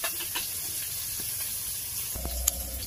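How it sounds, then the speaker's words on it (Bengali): Potatoes frying in hot oil for a village-style rohu fish roe dish, a steady close sizzle and hiss with faint stirring clicks and no talk. "তো দেখো আলুটা আমার লাল করে ভাজা হয়ে গেছে। আর একটু ভালো করে ভেজে নেব।"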